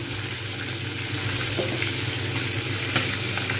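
Rohu fish sizzles and crackles steadily in hot oil, a continuous frying hiss with occasional small pops, close up and without talk.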